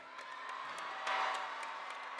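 A large crowd of University of Maryland graduates cheers and whoops at a graduation ceremony, a steady wash of voices with a swell of shouting in the middle, heard from a distance with no single voice standing out.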